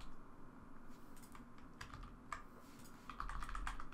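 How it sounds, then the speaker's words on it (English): Computer keyboard arrow keys tapped in short bursts while editing a floor plan in Photoshop, soft clicks scattered through the clip and quickening into a denser run near the end over a faint room hum. "Just using the arrow keys"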